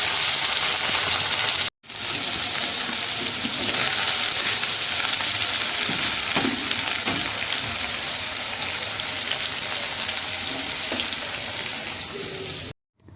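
Okra frying in a pan as part of a hand-mixed okra dish, a steady loud sizzle that fills the whole stretch, with a brief break near the start and a cut at the end.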